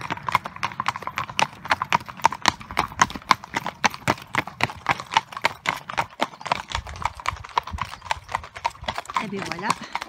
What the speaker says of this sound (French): tout un tas de chevaux qui sont passés sur le chemin